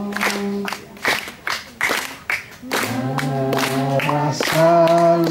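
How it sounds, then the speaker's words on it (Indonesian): An audience at a youth gathering claps in short bursts, then a group sings along in sustained tones, with clapping heard clearly in the first half. "Tepuk tangan."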